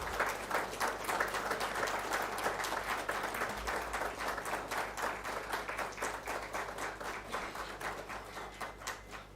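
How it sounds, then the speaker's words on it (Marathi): Audience applause for Khandare saheb at a vendor development programme and exhibition, a dense steady clapping from a sizeable crowd lasting the whole stretch, loud and continuous with no voices over it. "विशेष 20 सेकंद टाळ्या खंदारे साहेबांसाठी आपण"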